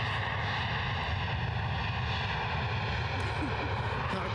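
Steady, loud broadband roar of aircraft at Edinburgh Airport during take-offs and landings, filling the whole clip outdoors with wind-like noise and no distinct events.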